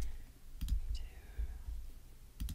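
Several sharp computer mouse clicks and light keystrokes, close and sparse, spaced irregularly over a quiet room background.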